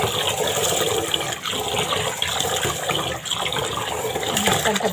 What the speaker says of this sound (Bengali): চালটা ধোয়া হয়ে গেছে।